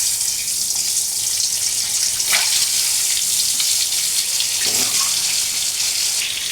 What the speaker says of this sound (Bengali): কড়াইতে তেলও গরম হয়ে গেছে। এবার আমি এক এক করে ডিমগুলোকে ছেড়ে দেব।